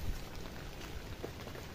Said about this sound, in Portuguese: E chuva que Deus manda.